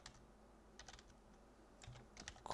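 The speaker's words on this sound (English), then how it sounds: "So you're going to make me type it all out" Soft clicks of typing on a computer keyboard, a few scattered keystrokes then a quicker burst near the end, quiet and close with no talking.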